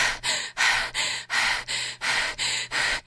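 Hard, rhythmic panting from a horror film, about seven loud ragged in-and-out breaths in quick succession with no talk.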